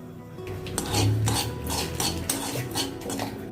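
Ajwain and poppy seeds dry-roasting in a pan, stirred with a metal spoon that scrapes and taps steadily against the pan, close and fairly loud, with no talking.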